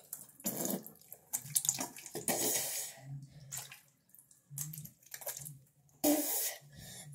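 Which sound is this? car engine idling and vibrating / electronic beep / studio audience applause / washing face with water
washing face with water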